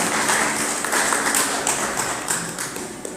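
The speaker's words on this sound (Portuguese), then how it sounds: "Palmas bem fortes, amados." Congregation clapping hands in church worship, a fast, loud run of hand claps that stays close and continuous for the whole stretch.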